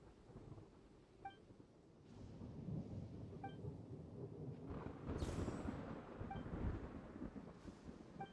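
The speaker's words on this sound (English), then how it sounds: "just thunder and lightning." Thunder rumbles through a stormy scene in the fantasy game Genshin Impact, a low, rolling boom building into a loud crack midway, with wind and soft chiming effects around it.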